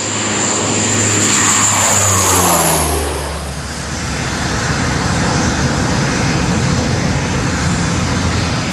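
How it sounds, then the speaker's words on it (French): An aging airliner in the Democratic Republic of Congo takes off, its loud engine roar sweeping past with a falling pitch before settling into a steady, fading rumble. "L'avion, dont nous venons de filmer le contrôle quelques minutes plus tôt, décolle."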